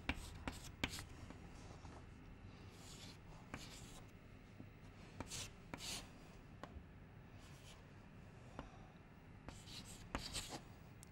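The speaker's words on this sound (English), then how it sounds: "let me write dP" Pen or marker scratching out an equation by hand, a steady run of short strokes and taps, close and fairly quiet, with no speech over it.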